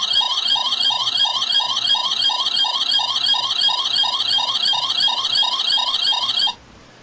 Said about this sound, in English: And the far right is like an alert sound.